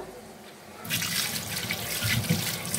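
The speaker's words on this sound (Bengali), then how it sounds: "তো আবার এগুলোকে একটু ধুয়ে নিব।" Fish pieces rinsed under running tap water in a sink, a steady splashing gush that starts abruptly partway in after a quiet moment and continues with small splatters and clatter.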